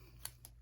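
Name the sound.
pair of scissors being picked up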